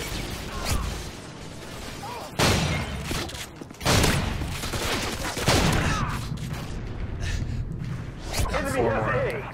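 Akimbo Model 1887 lever-action shotguns fired in a Modern Warfare 2 multiplayer match on the Terminal map, with a run of loud booming blasts spread across the stretch amid game noise and someone talking over the top.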